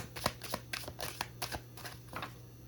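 A tarot card deck is shuffled by hand close up, a quick run of crisp card slaps and riffling clicks in an uneven rhythm, with no talking.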